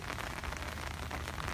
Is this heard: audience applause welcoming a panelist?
no